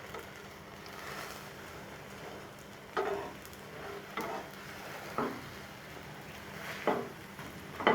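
An egg roll fries in a pan, with a faint sizzle underneath and several short, louder scraping bursts as it is rolled over.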